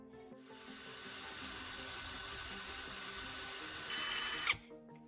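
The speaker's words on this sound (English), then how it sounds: "Drill one hole straight into the center of the thickness of the wood." Power drill boring a hole into a small wooden block, a steady close whirring hiss that starts abruptly, holds evenly for about four seconds, then stops with a short clatter.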